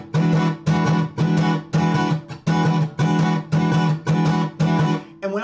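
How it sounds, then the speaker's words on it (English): Guitar played with double-hit strumming, about nine loud, close chord bursts in a steady groove, each pair of strokes blurring together with brief muted gaps between them. "I could do a double hit on all of them. It would sound like this."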